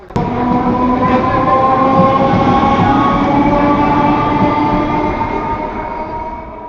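A train at Chinsurah railway station rumbles loud and close, with a sustained droning motor tone and rail noise that holds steady throughout and then eases off slightly near the end.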